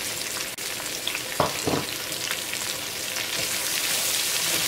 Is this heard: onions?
yes